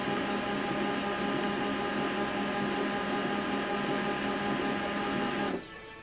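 An HP LaserJet Pro M28W laser printer runs a copy job with a loud, steady mechanical whir and hum close by, which stops abruptly near the end and leaves quiet room tone.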